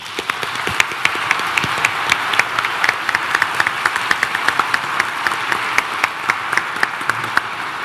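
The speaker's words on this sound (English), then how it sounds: "You got to give David another round of applause" An audience at an intelligent design versus evolution debate claps steadily after a speech, a dense, sustained round of applause with sharp individual claps standing out, fairly near and without talk.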